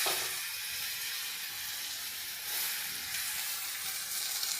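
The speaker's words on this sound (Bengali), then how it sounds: "এই দেখুন লাউটা আমি দিয়ে দেবো এবারে" Chopped bottle gourd sizzles in a hot pan, giving a steady, fairly quiet frying hiss that holds evenly throughout.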